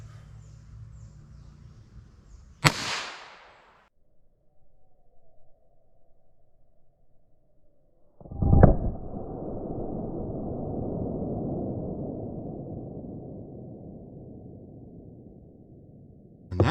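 A 4 3/4 inch revolver fires Aguila 60 gr .22 LR subsonic rounds into MDF in a ballistic test. Two sharp, fairly quiet cracks ring out several seconds apart, the second followed by a lingering rumbling decay.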